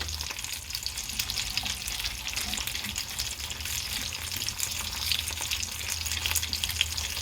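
Frozen peas, two cups of them, go into stock at the boil in a pot, giving a steady close bubbling and hissing with faint rattles throughout.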